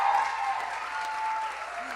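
A theater audience at a Broadway-style student showcase applauds in a steady, moderately distant wash of clapping that holds evenly throughout, with a faint voice underneath.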